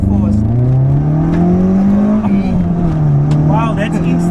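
A Toyota Corolla Twincam GLI with a racing clutch accelerates hard, its engine note loud and close and climbing in pitch as it revs up.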